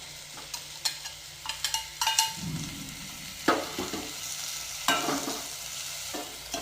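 Crushed ginger, garlic and curry leaves sauté in a hot pan, a soft sizzle under repeated stirring clicks and scrapes of a spoon, close by with no talk.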